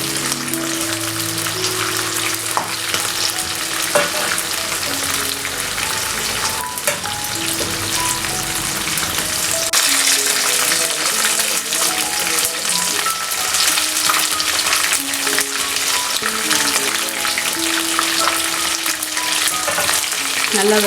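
Chicken lollipops fry in hot oil while being turned, making a loud, continuous close sizzle with dense crackling and occasional scraping of a utensil against the pan.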